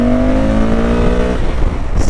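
A Honda Africa Twin Adventure Sports DCT motorcycle accelerating hard in sport mode, its engine note loud, close and rising steadily, then dropping briefly as a gear changes near the end.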